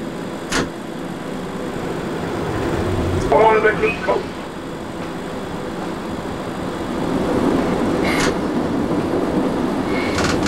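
A Berlin U-Bahn U7 train in the Trainz 2004 simulator rumbles steadily along as it pulls into a platform, with a brief squeal and clatter partway through and a voice talking over the running noise.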